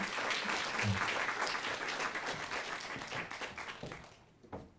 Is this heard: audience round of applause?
yes